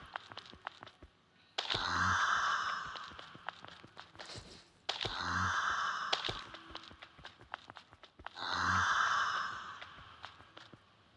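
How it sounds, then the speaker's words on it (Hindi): Dragon in the BGMI mobile game snoring in three slow, regular breaths, each a long rasping exhale with short pauses between, faint and without voices. "चलो फिर ड्रैगन के भी खर्राटे सुनते हैं।"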